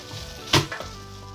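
A single garlic clove smashed flat with one sharp, dull thud-crack, close and fairly loud, with a small after-knock against the board and no talk.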